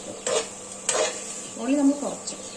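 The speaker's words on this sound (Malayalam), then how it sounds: "ചെറിയുള്ളി വെളുത്തുള്ളി കുറച്ച് മല്ലിച്ചപ്പ് മല്ലിച്ചപ്പ് നന്നായിട്ട് വറുക്കുക" Shallots, garlic and coriander leaves frying in a small amount of coconut oil: a spoon scrapes and knocks against the pan in a few separate strokes over a soft sizzle, close and fairly quiet.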